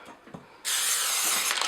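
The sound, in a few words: cooking spray sprayed onto cake pan lined with wax paper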